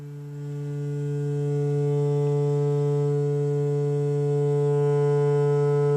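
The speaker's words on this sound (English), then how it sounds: "as we increase the gain here and start overdriving the input of that filter, our sine wave shape is going to change and add more harmonics" A synthesizer sine wave, driven into an overdriven filter, drones steadily as a buzzy, harmonically rich tone, swelling slightly louder over the first seconds and then holding steady alone.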